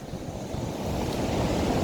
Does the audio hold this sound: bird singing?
no